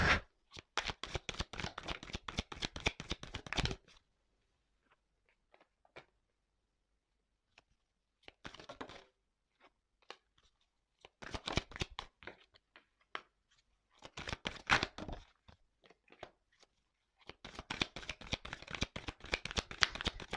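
Tarot cards being shuffled in several bursts of rapid riffling flutters separated by quiet pauses, close and crisp, with no talking.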